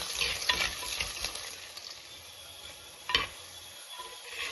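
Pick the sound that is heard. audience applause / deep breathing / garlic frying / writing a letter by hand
garlic frying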